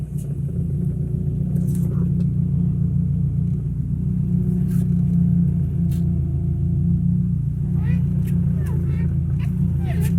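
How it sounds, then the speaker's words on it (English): A Toyota Camry with a suspected power steering pump fault rumbles steadily at idle, a loud, continuous low drone that holds the whole time with faint whining above it. "My power steering, it's probably the power steering pump"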